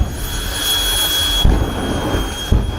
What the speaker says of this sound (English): jet-powered vehicles stole the spotlight